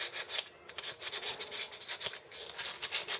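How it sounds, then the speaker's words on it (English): A sheet of old sandpaper rubs back and forth over a rusty car part on a 1988 Ford Mustang GT in a garage. It makes a close, steady rasping scrape in short uneven strokes, and no one speaks. "This I'll do some sanding on."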